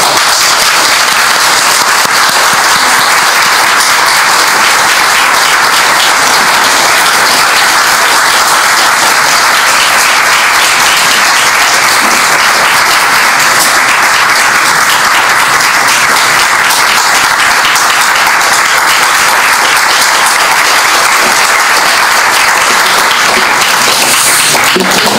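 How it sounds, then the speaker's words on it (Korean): Steady, sustained applause from an audience at a Sewol ferry memorial prayer gathering, offered as encouragement to a person coming forward to testify. Many hands clap evenly and fill the room for about 25 seconds, with no talking. "격려의 박수를 함께 부탁드립니다"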